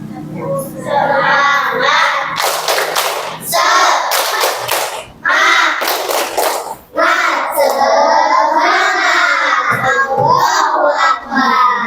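Children in a classroom perform a rhythmic clapping chant, bursts of loud synchronized claps alternating with chanted and shouted voices, close and energetic.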